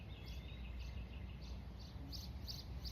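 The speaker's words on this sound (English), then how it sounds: "You can hear the birds really going crazy too." Birds chirp outdoors in a faint, repeated series of short high tweets spread evenly over a quiet, low background hum.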